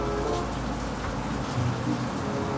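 Heavy rain pours down outside, a continuous hiss of drops striking surfaces, fairly loud and steady with small patters and splashes scattered through it.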